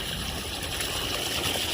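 Water runs steadily from the drain outlet of a catfish pond in a hillside farm, a continuous close rushing and gurgling wash with no pauses.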